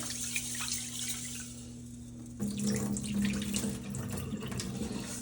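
Tap water pours steadily into a pot of rice, the tone shifting partway as the flow splashes and fills, close and continuous.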